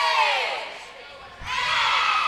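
A school crowd cheers and shouts at a varsity volleyball match in a gym, a loud sustained roar of many voices that dips briefly and then surges back up.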